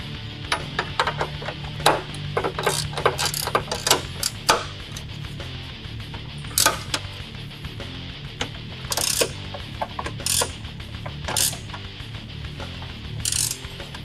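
Ratchet working on the strut bolts of a Hyundai Tucson, irregular metallic clicks and clinks with brief bursts of rapid ratcheting, close and fairly loud with no speech.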